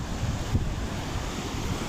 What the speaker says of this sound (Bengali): বড় বড় পানির ঢেউ।